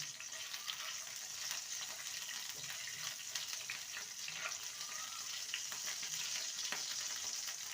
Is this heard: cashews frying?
yes